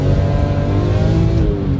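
A BMW M3 with rear-wheel drive accelerates hard up a wet mountain pass in sport mode, recorded on board. The engine gives a loud, close, continuous roar that climbs slightly in pitch.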